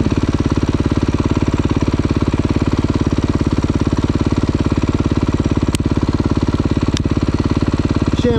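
A motorcycle engine thrums close and loud during a ride, its rapid, even firing pulses holding steady throughout with no speech over it.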